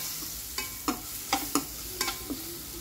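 A spoon stirs turmeric, chilli and ginger-garlic paste in a pan over low sizzling heat, giving about seven distinct scraping strokes spaced unevenly across a soft background fizz, with no voices.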